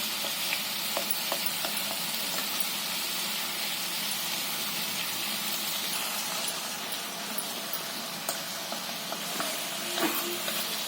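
Cumin seeds sizzle steadily in hot oil in a pan for a bell pepper curry, a dense continuous frying crackle with a few louder pops, close and alone.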